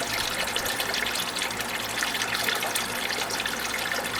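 Engine oil pours steadily from the drain of a 1972 Corvette's rusted, seized engine into a large jug, a continuous close liquid gush and trickle with no talk.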